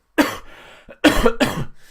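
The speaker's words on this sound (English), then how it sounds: "Sorry about the coughing" Three harsh coughs close to the mic, one on its own and then two in quick succession, with a raspy throat sound in between.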